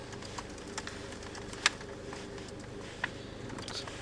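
Typing on a Sager laptop keyboard: a few sparse, crisp key clicks stand out over a steady low hum, with no talking.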